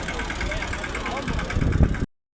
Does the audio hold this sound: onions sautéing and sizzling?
no